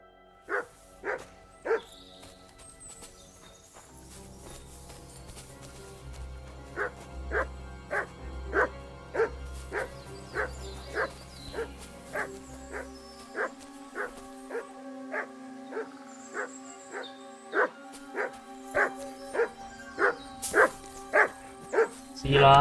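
Mutt, a dog in the video game Kingdom Come Deliverance II, barks in a steady, evenly spaced run of clear, fairly close woofs that carries on for many repetitions over a low game soundscape.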